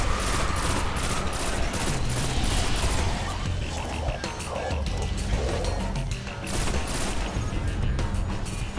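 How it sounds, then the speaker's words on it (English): Pulse rifle firing in Destiny, a steady run of rapid gunfire bursts that carries on under voices and game noise for several seconds. "Love this pulse rifle. The fire rate on it's amazing."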